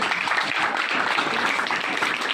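Short burst of applause from schoolchildren at a school lecture, praising a student's answer: a dense, fairly close flurry of clapping from many small hands, lively and uneven, lasting a couple of seconds.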